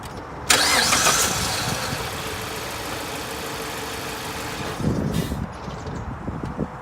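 A car engine cranks and fires up abruptly, settling into a steady, slightly rough idle with a second surge of revving near the end; the car is suspected of a worn timing belt.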